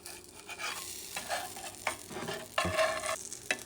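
Sweet plantain pancakes sizzle and fry in a pan, with soft scraping and stirring sounds from a utensil over a steady crackle. The sound is close and quiet.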